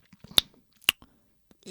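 A voice imitates Goldilocks eating porridge from the big bowl, giving two sharp, close smacking bites or slurps with faint small mouth noises around them and a short burst of breathy sound at the end.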